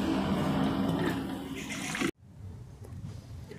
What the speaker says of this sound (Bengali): দেখুন ফুটোতে জল বেরোতে আরম্ভ করেছে।